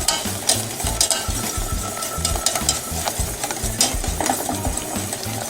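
A whisk beats lemon curd in a pan on the stove in quick, regular strokes, each one a soft rhythmic thump under a continuous light bubbling sizzle.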